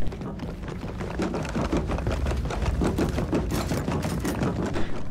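Rapid, dense gunfire from the video game Gears of War 4 Horde mode, a continuous rattling burst of shots that runs loud and steady through the whole stretch with no voices over it.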